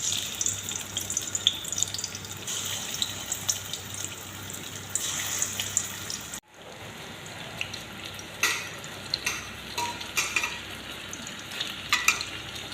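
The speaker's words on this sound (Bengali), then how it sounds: "সরষে তেলের মধ্যে সব কাঁকরোল পুর ভেজে নেব।" Stuffed spine gourd (kakrol) coated in chickpea paste frying in mustard oil, a steady crackling sizzle with a brief cut midway, then sizzling resumes with sporadic sharper pops and scrapes, no speech.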